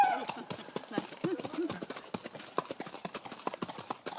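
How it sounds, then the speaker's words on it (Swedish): Horse hooves clip-clop in a steady, quick rhythm on a hard surface, fairly close and moderately loud, with voices talking over them. "Det är hästar, gumman."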